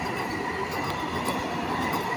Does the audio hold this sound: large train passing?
yes